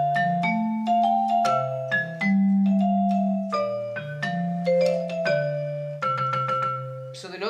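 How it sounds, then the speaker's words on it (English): A keyboard set to a vibraphone voice plays a solo of ringing mallet-like notes for a song arrangement, a steady run of bright struck tones with sustained decays, close and clear with no talking. "on my piano, the instrument is vibraphone, but it sounds like this."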